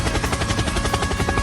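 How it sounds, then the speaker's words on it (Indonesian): A helicopter's rotor chops loudly and close, a rapid, even throbbing pulse that runs without a break and stands alone with no voices. "Helikopter, helikopter."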